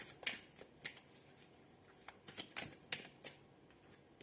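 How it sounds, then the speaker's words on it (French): Mudra oracle cards are shuffled and drawn, giving close, crisp riffles and flicks in irregular bursts. "on va prendre une petite carte Mudra pour ce mois de février"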